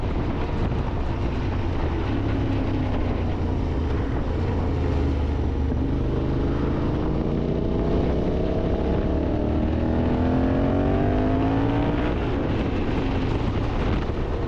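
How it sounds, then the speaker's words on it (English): Motorcycle engine droning steadily while riding, with heavy wind rush over the microphone and a rising, shifting engine pitch as the bike accelerates. "Bike makes such a good noise."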